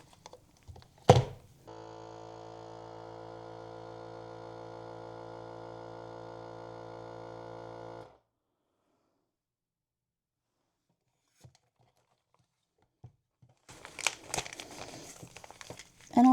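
A Seal-A-Meal heat sealer closes a plastic bag with a steady, even electric hum that runs for about six seconds and then stops, followed by quiet and some soft plastic rustling near the end.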